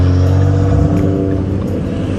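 A Ford Mustang 5.0 V8 with a catless Roush axle-back exhaust cruises at steady speed, its low, even engine drone and exhaust rumble continuous and close throughout.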